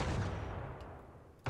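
A brief burst of distant, muffled gunfire aimed at the sun in the space game Worbital, a soft rumbling volley that fades, then a sharper hit right at the end.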